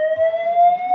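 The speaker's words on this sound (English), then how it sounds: "The fire alarm system has been activated in this building." A building fire alarm sounds continuously, a steady electronic tone holding one pitch with a higher harmonic above it, loud and alone with no voices.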